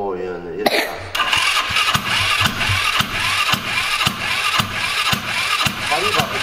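A scooter engine is kicked into life after a failed attempt, then settles into a rough, sputtering idle with a regular popping rhythm, loud and close, while people talk nearby.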